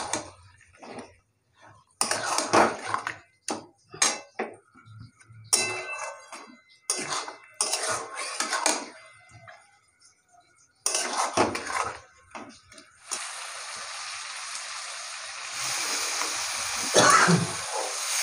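Chicken marinated in lemon juice, salt and turmeric is stirred in a pan, giving bursts of clattering metal scrapes and knocks separated by pauses, then a steady hiss of cooking toward the end.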